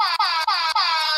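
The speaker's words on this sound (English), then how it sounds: "So this is my mini air horn." Three quick blasts from a small air horn, loud and harsh with bright tonal overtones, separated by brief gaps.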